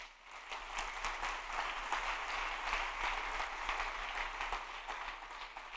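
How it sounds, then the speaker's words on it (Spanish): A church congregation applauding during a sermon, a steady wash of many hands clapping at moderate distance, sustained for several seconds without a break. "Dele un aplauso al Señor"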